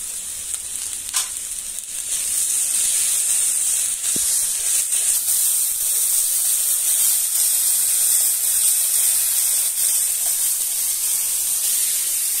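Ground spices frying in hot oil while making banana-flower chops, a bright continuous hiss and sizzle that jumps louder after a couple of seconds and then holds steady, close and without talk.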